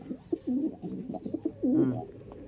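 Pigeons coo close by in soft, throaty repeated bursts, a few low rolling calls in quick succession.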